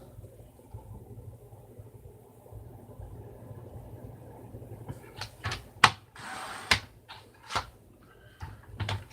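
Paper being trimmed to size with a cutter, a quiet stretch followed by a run of sharp slicing and snapping sounds, several distinct close strokes in irregular rhythm.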